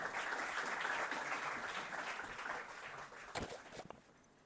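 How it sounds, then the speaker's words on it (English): A seated audience at an academic workshop's closing session gives a sustained round of applause, a broad, even patter of many hands that gradually fades away toward the end. "Let's bring a huge round of applause for ma'am."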